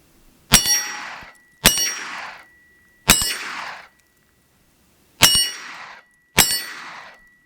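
Five .22 supersonic rounds striking a steel target, each a sharp metallic clang with a ringing decay, spaced about a second apart with one longer gap, loud and alone without talk.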